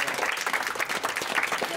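A group applauds itself, a steady dense wash of clapping filling the whole short stretch at an even level.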